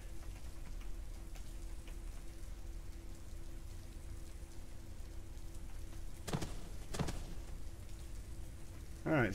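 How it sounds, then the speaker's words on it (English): Rain falls in the Starforge video game during a storm, a steady hiss of rainfall with a faint hum, punctuated by a couple of brief sharp knocks near the end. "It's raining in here."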